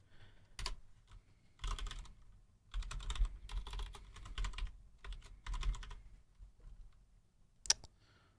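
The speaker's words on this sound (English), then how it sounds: "I guess it's just going to take me a couple of weeks to get used to typing so much again." Computer keyboard typing in quick bursts separated by short pauses, close and crisp, ending with a sharp click.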